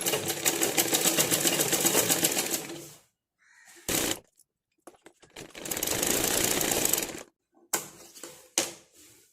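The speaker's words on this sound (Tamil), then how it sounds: "படிமான தையல் அப்படிங்கிறது நல்லா எஜ்ஜிலே போடுறது தான்" An electric sewing machine stitches a blouse back with its lining in loud, close bursts of rapid mechanical clatter, broken by short pauses and a few clicks and handling knocks between runs.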